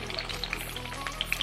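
Paneer laddu balls frying lightly in hot oil, a soft steady sizzle with faint crackling pops scattered throughout, quiet and close.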